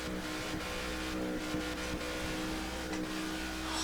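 A pack of stock cars in a NASCAR racing video game at Auto Club Speedway, engines droning and whining steadily as the group runs close together, loud and continuous.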